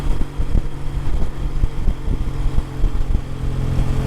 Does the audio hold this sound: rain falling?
no